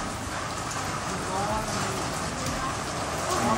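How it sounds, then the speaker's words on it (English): Rain pours down on a street in Hue, a continuous broadband patter that stays loud and steady, with slight swells and some faint background activity beneath it. "Rainy."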